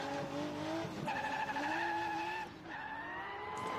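A BMW E92 drift car initiates a drift during a rainy qualifying round at Igora Drive, its engine holding a loud, rising wail over a steady tire squeal, close and continuous with a short dip midway.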